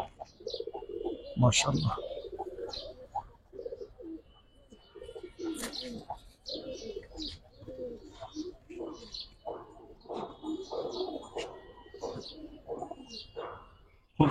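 Pet pigeons coo repeatedly up close, soft throaty calls mixed with a few chirps and a brief flutter, while someone speaks briefly among them.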